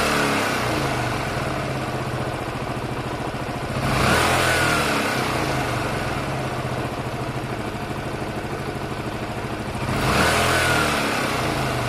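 A Honda Varadero 125 motorbike runs close by during carburettor tuning, its engine idling steadily with a dense low throb, then revving up twice, at around four and ten seconds, before settling back to idle each time.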